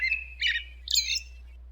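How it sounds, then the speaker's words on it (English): Several birds chirp loudly outdoors in bright, clear bursts, a steady tweet at the start and then two busier chattering phrases close by, with no talking. "those birds are loud"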